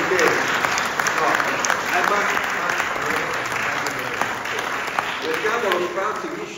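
An audience at a lecture-style talk on gastronomy applauds: dense, continuous clapping at a steady level for several seconds, with a voice speaking over it.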